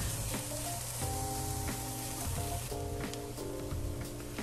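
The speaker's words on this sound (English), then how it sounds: "chopped herbs are sauteed" Chopped herbs sauté in a pan with a constant close sizzle and crackle, and a faint steady tonal hum runs beneath the frying.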